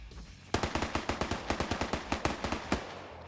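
A rapid burst of 7.62 rifle gunfire in a combat video game rings out as a fast series of sharp, evenly spaced shots, loud and close, after a short quiet lead-in, with no talk.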